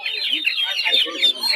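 Chickens, including Golden Sebright birds, clucking rapidly and insistently up close at a live poultry market in Narsingdi, a busy burst of overlapping calls.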